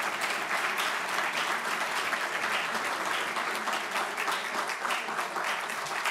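An audience applauds steadily after a student speaker at a valedictorian and salutatorian breakfast, dense even clapping sustained at one level for the whole stretch with no voices over it.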